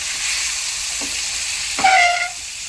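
Cabbage and dal vegetables sizzle as they are stirred in a hot pan, a steady frying hiss with a couple of sharper scraping stirs near the end.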